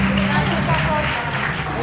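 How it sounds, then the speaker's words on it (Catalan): A crowd applauds a magician at a school show, giving a dense, steady wash of clapping that stays loud and even from start to finish, with faint murmuring and a low hum beneath. "Un fort aplaudiment per al mag Seco."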